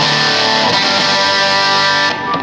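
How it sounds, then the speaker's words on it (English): Electric guitar played through a Boss DS-1 distortion pedal, a thick, heavily saturated sustained chord ringing loud and steady for about two seconds before easing off. "So here's the Boss classic DS1 distortion."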